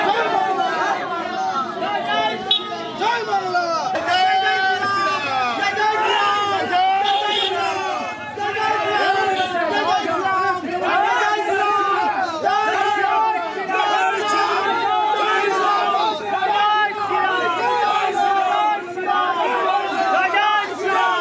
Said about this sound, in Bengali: দিলীপ ঘোষের মিছিলে রীতিমতো উত্তেজনা, স্লোগান পাল্টা স্লোগান